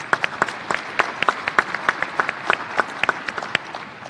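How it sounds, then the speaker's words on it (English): Audience applause at a University of Southern Indiana and Ohio Valley Conference press event: a modest crowd claps steadily for about four seconds, with distinct individual claps standing out sharply against the group. "Let's give her a round of applause, please."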